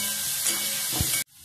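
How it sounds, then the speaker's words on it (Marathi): Garlic and green chillies fry in hot oil after asafoetida for Maharashtrian zhunka, a steady close sizzle and hiss with a soft stir, cut off abruptly near the end. "लसूण मिरची छान खमंग होईपर्यंत परतायची"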